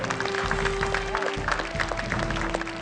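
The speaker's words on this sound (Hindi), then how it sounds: "इस प्रांगण में, इस हॉल में, स्टूडियो में बजने वाली तालियां" Audience clapping in a studio hall during a televised poetry program, a steady brief burst of applause over background music.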